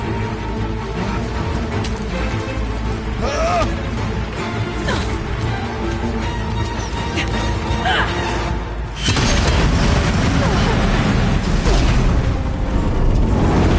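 Explosive ammo detonating during a fight in Horizon Zero Dawn, heavy booms and crashing debris over a dense, loud rumble that thickens sharply partway through.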